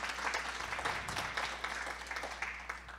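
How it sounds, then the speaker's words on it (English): Scattered audience applause at a Martin Luther King Jr. birthday breakfast tribute, fairly faint and uneven, with individual claps rising and falling over a low steady hum. "give them a round of applause for their hard"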